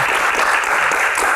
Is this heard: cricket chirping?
no